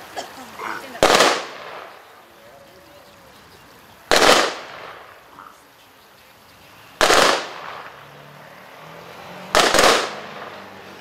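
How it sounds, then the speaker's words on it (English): Rifle volleys of a 21 gun salute ring out at a Memorial Day ceremony, four sharp, loud cracks spaced roughly three seconds apart, each trailing off in an outdoor echo. "take charge of your unit and fire the 21 gun salute"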